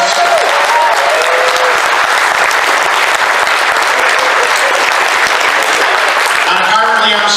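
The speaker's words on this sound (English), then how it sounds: "Give JP a massive round of applause." Loud, dense applause from a convention audience at TFNation for a speaker, sustained and even throughout, with a brief voice near the end.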